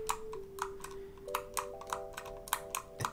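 Soft repeated clicks from the scroll wheel of a Logitech MX Anywhere 2 mouse, about eight light taps at an uneven pace, close up over a faint steady electronic tone, with no talking.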